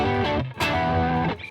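Ibanez GSA electric guitar through a Tube Screamer used as a boost into a Blackstar amp, playing a heavy overdriven tone: thick distorted chords and notes, loud and close, with a brief gap near the start and no voices.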